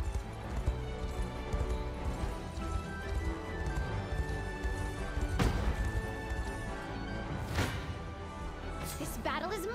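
Horse galloping in Unicorn Overlord, a steady rhythmic clip-clop of hooves running continuously, joined by scattered sharp impacts, a whinny and faint voices.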